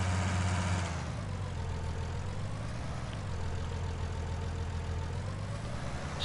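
A tractor engine in Farming Simulator 19 drones steadily at a low idle-like rumble for the whole stretch, straining as it works a field, with no voices over it.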